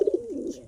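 A pigeon kept among birds for sale gives a single short, close coo: a few quick throaty pulses rolling into a soft warble, with no talk over it.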